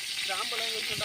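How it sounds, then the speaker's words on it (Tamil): Ghee sizzles in a pot as spices are tempered for chicken biryani, a steady loud hiss running throughout while a person talks over it. "இப்போ பார்த்தீங்கன்னா நம்ம நெய் ஊற்றி தாளிக்க ஆரம்பிச்சாச்சு"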